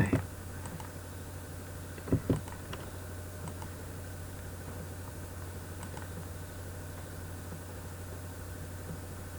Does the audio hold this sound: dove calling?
no